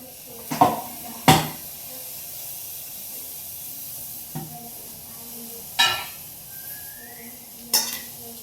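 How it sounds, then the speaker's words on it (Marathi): Spices crackle and sizzle in hot oil in a pot for chicken curry, with a soft steady hiss, broken by several sharp clinks and stirring knocks, close and fairly quiet. "त्याच पातेल्यामध्ये आपण फोडणी देणार आहे"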